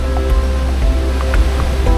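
Borosa river water flowing steadily over broken rocks, a continuous close rushing wash with no voices.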